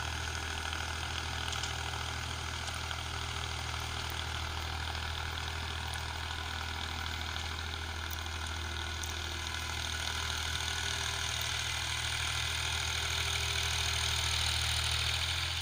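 A Powertrac 445 tractor engine drones steadily at constant revs while running a 7 ft Sonalika rotavator, with a mechanical whine over it, loud and continuous with no talking.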